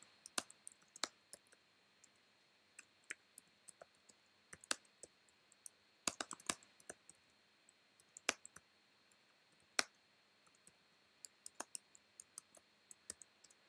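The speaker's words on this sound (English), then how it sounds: "thanks for sticking around while I was typing." Quiet, sparse typing on a computer keyboard in a late-night room, with scattered single key clicks and small clustered bursts against near silence and no voices.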